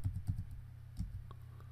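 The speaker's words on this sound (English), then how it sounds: "let's make a bigger brush using the bracket keys" Computer keyboard bracket keys tapped to resize a brush in image editing software: a quick cluster of soft clicks at the start, a single press near one second, then fainter taps, all close and fairly quiet.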